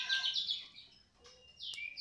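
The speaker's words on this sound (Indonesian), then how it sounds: "kita pindah ke kenari" A caged canary sings bright, rapid high-pitched trills and chirps in two close bursts separated by a brief pause, clear and near with no talking.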